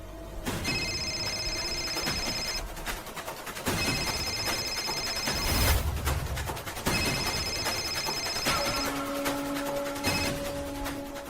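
A telephone rings in repeated bursts of bright, electronic-sounding trilling tones with short gaps between them, fairly loud and close over a busy background.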